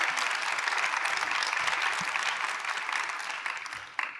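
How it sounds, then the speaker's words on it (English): An audience at an SXSW EDU education panel gives a sustained round of applause for the panelists, dense even clapping that tapers slightly toward the end. "Can we give them all a round of applause?"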